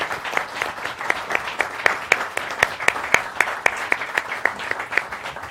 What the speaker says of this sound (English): So give Greg, his wife Oh. Felicia, and our superstar a big round of applause